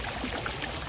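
Water from a garden fountain in a Canadian flower garden splashes and trickles in a steady, close, continuous wash of sound.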